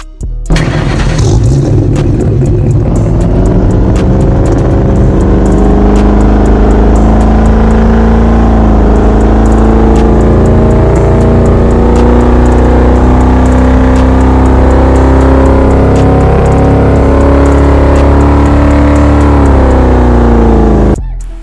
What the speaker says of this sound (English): I'm gonna show y'all the second video of Moku's driving the cars.